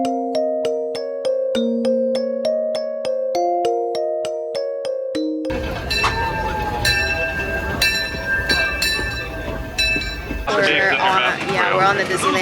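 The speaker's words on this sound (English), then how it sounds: "We're on the Disneyland Railroad." Aboard the Disneyland Railroad, a steady train ride rumbles along after a melodic chime sequence, with bright bell-like rings and track noise, loud and close, followed by a shift to busier ambient sound.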